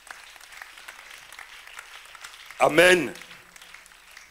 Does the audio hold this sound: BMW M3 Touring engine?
no